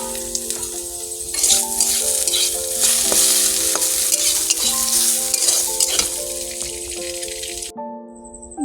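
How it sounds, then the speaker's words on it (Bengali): Potatoes frying in a pan at night make a loud, continuous sizzle close by, mixed with rattling stirs and clinks of the utensil against the pan, and nobody speaks. "আর আমার আজকে আলু ভাজা চলছে।"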